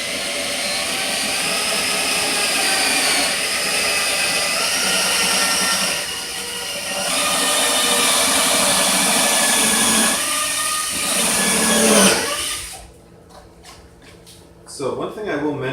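A power drill bores holes in a boat hull, making a loud, sustained grinding whine that dips and surges over several seconds before cutting off, followed by quieter clattering.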